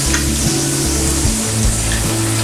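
Browned onions sizzle loudly in a hot pan as chicken pieces are added, with steady crackling frying and a few rhythmic stirring scrapes close up.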